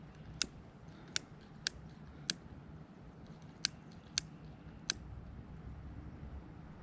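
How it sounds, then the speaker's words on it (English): A dull knife sawing through two camp ropes outdoors in a state forest, giving seven sharp, separate snapping cuts at irregular intervals over a quiet background. "Just to cut those two ropes."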